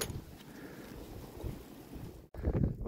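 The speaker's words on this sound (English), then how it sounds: "but it is windy" Steady wind blows across an open 1800s coastline where old bottles are being dug, a constant rough gusting rush close to the microphone that swells again near the end after a brief lull.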